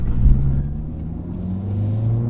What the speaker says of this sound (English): Man, this thing revs up so fast.